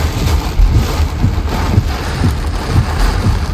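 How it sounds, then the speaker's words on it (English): Heavy rain pours down hard in a dense, loud, continuous roar of drops striking surfaces, with low rumbling thumps mixed into the steady downpour and no voices. "the rain come down so hard."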